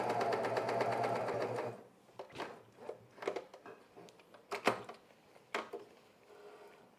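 A cover stitch sewing machine runs in a dense, steady whir while stitching fabric for men's underwear, then stops. Scattered clicks, taps and fabric handling follow at close range.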